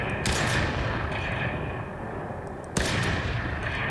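Gunfire in a self-made Unity or Unreal Engine video game, heard as a sustained roar of rapid shots with a sharp crack near the end, loud and dense.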